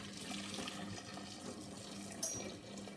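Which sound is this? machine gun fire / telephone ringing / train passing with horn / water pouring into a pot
water pouring into a pot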